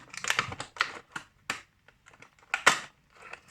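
Packaging being torn and pulled open around a boxed Rubik's-style cube puzzle, giving close, sharp crinkling and snapping bursts in quick irregular clusters with short pauses between them.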